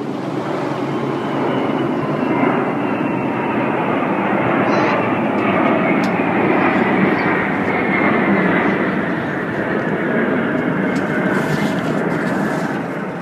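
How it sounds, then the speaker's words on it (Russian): Three Il-76 transport aircraft fly overhead with a loud, steady roar of jet engines, a broad rushing drone that holds its level from start to finish. "В его объектив попал полет тройки самолетов Ил-76."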